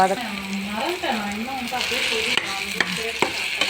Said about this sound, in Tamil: நெல்லிக்காயை நல்லா வறுத்துக்கோங்க.